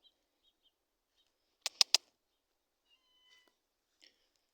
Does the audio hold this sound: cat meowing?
yes